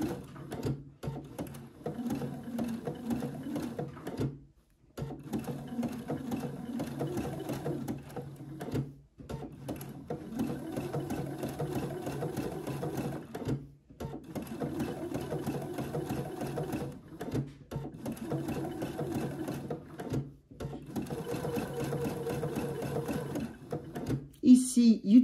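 A sewing machine stitches patchwork fabric in a Celtic design, running in steady whirring bursts of several seconds with brief pauses where the presser foot lifts. Someone talks quietly over the stitching.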